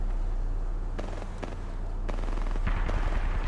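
Gunfire in the Apex Legends battle royale game, rapid automatic bursts of shots with crackling impacts over a constant low background drone, fairly loud and sustained through the moment.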